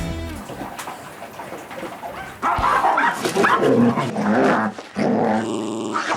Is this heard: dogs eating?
yes